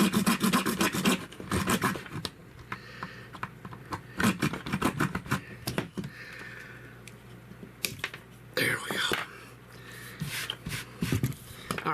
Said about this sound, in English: I think we're just going to cut this off